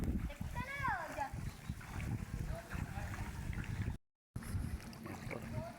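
Wading through knee-deep floodwater in flooded Hagonoy, Bulacan, with steady sloshing and splashing close by, running continuously and broken by one short gap.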